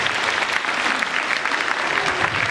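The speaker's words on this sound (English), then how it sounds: "Clap if you agree with me on that." Audience applause at a middle school head-shaving event, a steady wash of many hands clapping together throughout, fairly loud and close.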